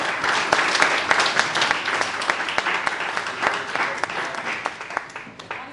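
A church congregation applauds during a Bible study class, dense clapping from many hands sustained throughout and fading slightly toward the end.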